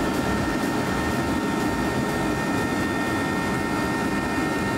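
A Delta Boeing 737 jet takes off from SeaTac, departing south toward Los Angeles: a loud, steady, broadband engine roar with sustained tonal whine, continuous and unbroken throughout, with no talking.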